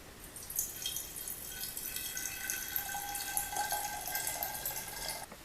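Homemade cider is poured into a jug, with a faint, steady trickle and soft splashing of liquid running continuously at close range.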